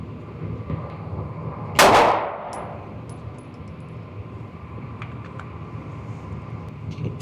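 A single sharp handgun shot cracks out during a holster draw drill, loud and close, with a brief fading tail before quiet room tone returns.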